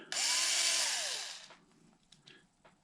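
A power driver tightens axle shaft nuts on a Traxxas Maxx RC truck: one close, loud whirring burst of about a second and a half that winds down, followed by faint handling clicks.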